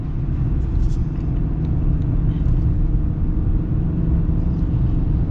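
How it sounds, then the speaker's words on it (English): A 2023 Hyundai Santa Cruz with a lift holds a lower gear while climbing a hill, its engine a steady, loud, low rumble from inside the cabin that drones on evenly throughout. "it is staying in a little bit of a lower gear to keep us going up this hill"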